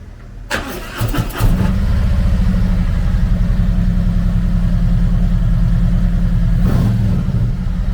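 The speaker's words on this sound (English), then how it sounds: "Powered by a 114 cubic inch V-twin motor, the Freewheeler puts 89 horsepower and 122 foot-pounds of torque through a 6-speed transmission." A 2019 Harley-Davidson Freewheeler trike with a 114 cubic inch V-twin starts up close by, cranking briefly before catching into a loud, steady, throbbing idle that runs on alone.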